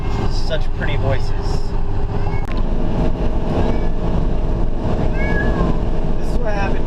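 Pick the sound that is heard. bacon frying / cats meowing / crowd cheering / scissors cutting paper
cats meowing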